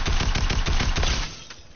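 Video game gunfire: a loud, rapid automatic burst of closely spaced shots, steady and near, tapering off after about a second into quieter trailing shots.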